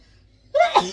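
One sharp, close sneeze bursts out after a quiet moment, loud and brief, with a breathy catch at the end, indoors while laundry is being folded.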